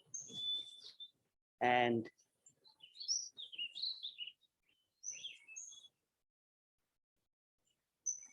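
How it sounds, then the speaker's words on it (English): Clear, high bird chirps and warbling tweets come in short separated phrases with silent gaps between them, interrupted once by a brief burst of a deeper sound, fairly quiet overall. "sound is bird"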